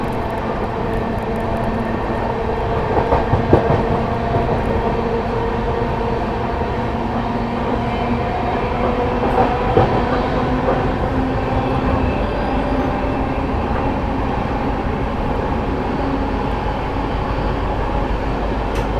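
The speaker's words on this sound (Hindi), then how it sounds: "अपनी ट्रेन ने यहाँ से स्पीड अप होना शुरू कर दिया है।" Garib Rath Express train gathering speed on the tracks, heard as a loud, continuous rumble and roar with periodic clacks of wheels over rail joints; no voices.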